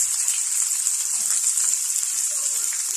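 Chopped green chili and onion hitting hot oil with browned garlic for a white sauce pasta, giving a loud, close, continuous sizzle and hiss that holds steady throughout without any talking.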